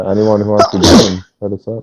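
A single loud, close sneeze bursts out between stretches of a man's speech in a casual gaming chat, with more talking following right after.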